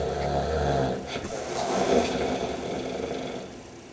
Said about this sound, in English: that is some heavy duty snoring